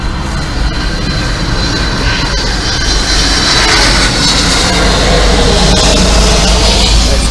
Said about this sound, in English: Seeing these planes coming out of the fog, it's like, wow, man.